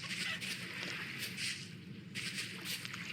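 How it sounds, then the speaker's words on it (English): Chickens in the Vintage Story video game squawk and flutter as someone passes, a faint, short burst of fowl calls over quiet background noise. "Scaring the chickens as we go by."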